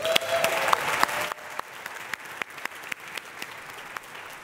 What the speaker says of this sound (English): Just one final round of applause for all of the new speakers